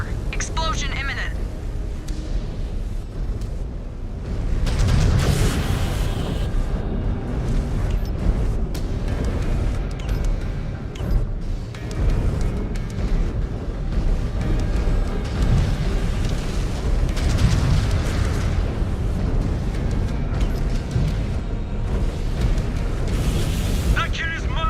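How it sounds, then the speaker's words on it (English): A mech's reactor explodes in the video game MechWarrior 5 Clans, producing deep rumbling booms within dense, loud battle noise, with a voice heard over the action. "Exposed reactor. Explosion imminent."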